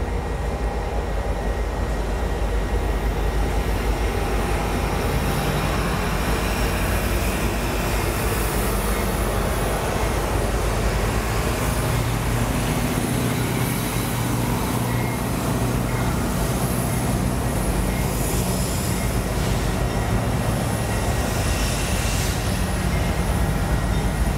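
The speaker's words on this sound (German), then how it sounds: "bevor dann die Schlusslokomotive, eine General Electric ES44AC, kommt die diesem Zug die nötige Unterstützung am Zugschluss gibt" A long freight train rolls past close by on Sherman Hill, with a General Electric ES44AC locomotive pushing at the rear. The loud, continuous rumble and rail clatter hold steady throughout, with no voices.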